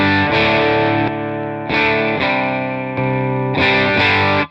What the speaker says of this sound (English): you can hit randomize and you'll hear the pedal change ever so slightly in the EQ and the clipping